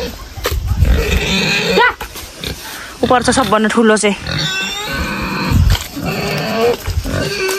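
Pigs on a village farm grunting and squealing loudly up close in repeated bursts, with people talking between and over the calls.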